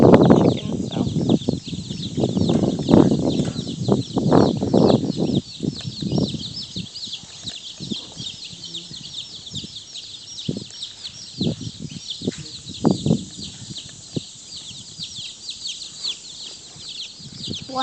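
Black Jersey Giant meat chickens cluck and chatter in a group, busy and close at first with louder bursts of calls, then thinning to sporadic clucks over a steady high-pitched peeping background.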